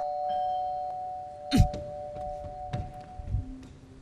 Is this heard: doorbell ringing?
yes